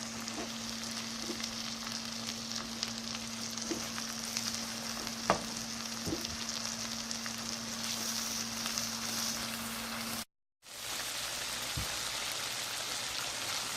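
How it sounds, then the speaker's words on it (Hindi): Steady sizzling of garlic-ginger spice paste frying in a hot pan, with occasional soft stirring scrapes and a brief drop-out near the end; no talking. "ये लहसुन अदरक का पेस्ट डाल रही हूँ।"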